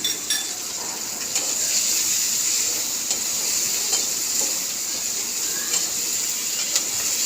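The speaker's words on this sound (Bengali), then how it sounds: "কাঁচামরিচ পেঁয়াজে একটু লবণ দিয়ে ভেজে নেব।" Green chili and onion with salt frying in a pan, a steady bright sizzle throughout with occasional light stirring clicks, loud and close, no talk.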